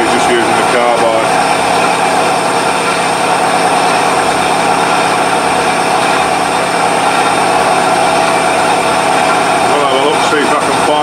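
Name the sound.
metal lathe cutting with a carbide tool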